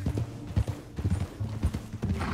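Horse hooves clip-clop steadily on the ground in Red Dead Redemption 2, a continuous close rhythm of soft thuds with a brief whinny-like tone, heard without speech.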